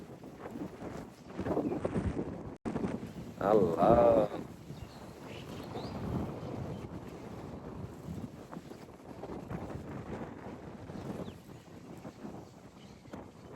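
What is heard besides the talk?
strong wind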